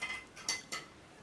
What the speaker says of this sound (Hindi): हम कनी बर्तन धो के अबै छी।